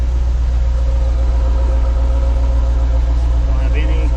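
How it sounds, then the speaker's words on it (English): A C4 Corvette engine idles with a constant, low rumbling hum, close and steady throughout. "So you can hear it idling."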